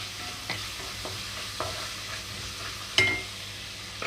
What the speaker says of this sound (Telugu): అల్లం వెల్లుల్లి పర్ఫెక్ట్గా వేగిపోయింది అనుకున్నప్పుడు కట్ చేసి పెట్టుకున్న టమాటో వేస్తున్నాను